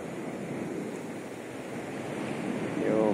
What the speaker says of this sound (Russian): Вот смотрю, волны такие большие начинают.